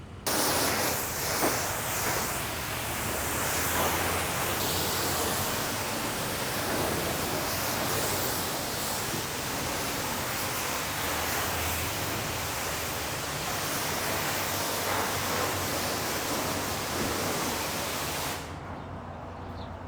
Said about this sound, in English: And then now we're gonna go ahead and rinse it off.